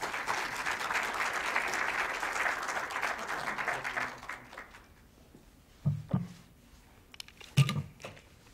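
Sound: audience applause welcoming the lecturer Nick Mitzevich

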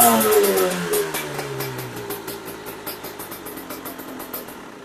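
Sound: MXF 300TS motorcycle engine revving

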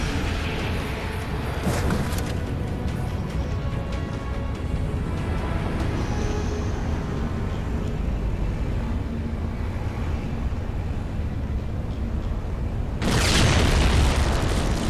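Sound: ship exploding in a video game

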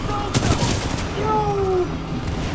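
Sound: gunfire in Titanfall 2 video game

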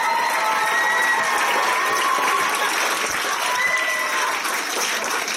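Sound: audience applause

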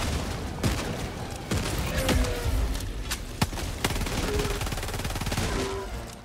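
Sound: autocannon sentry firing in video game Helldivers 2

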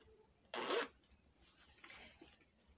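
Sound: zipper on a back pocket of a denim bag

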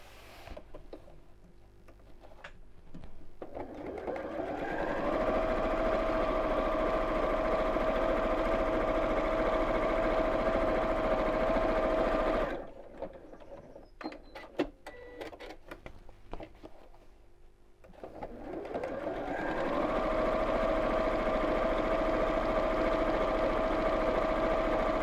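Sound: sewing machine top stitching a purse

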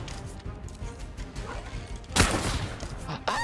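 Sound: sniper rifle shot in a video game

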